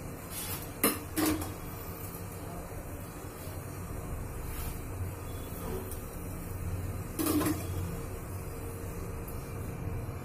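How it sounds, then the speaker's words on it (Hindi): Cooked rice is spread in a layer over chicken and potatoes in a cooker for Eid shahi chicken biryani, with a few sharp utensil clinks against the pot over a steady low kitchen hum. "अब हम चावल की तह बिछाएंगे।"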